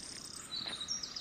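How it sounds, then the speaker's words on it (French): Small birds chirping faintly outdoors along a trail near a stone bridge, short high tweets repeating thinly over steady insect-like background hiss, with no talk. "Et avec le chant des oiseaux."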